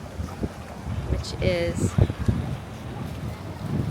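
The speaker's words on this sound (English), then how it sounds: "It's very windy over here." Wind buffets the microphone with a low, rushing rumble while a person speaks briefly over it outdoors on a beach at CocoCay.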